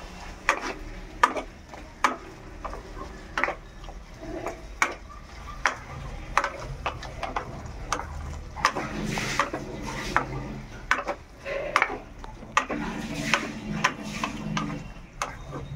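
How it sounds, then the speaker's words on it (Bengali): A spoon stirs sugar into a dish in a pan, with steady ticking scrapes and clinks against the metal repeating in an even rhythm throughout, fairly close and moderately loud. "এই যে সামান্য চিনি একটু ছড়িয়ে দিলাম। দিয়ে একটু ভালো করে মিশিয়ে নিলাম"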